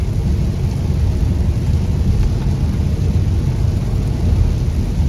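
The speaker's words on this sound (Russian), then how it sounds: "Добавок еще и дождь, ливень." Heavy rain downpour drums steadily on a car during a road trip from Chita to Aldan, a dense continuous broadband roar with no pauses across the whole stretch.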